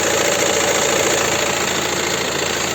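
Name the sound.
VW Touran 2.0 TDI diesel engine idling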